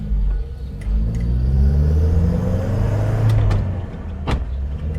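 A 1960 Standard Vanguard Vignale driving in third gear, its engine giving a steady, close rumbling drone with slight swells in pitch as it pulls along, with no voices.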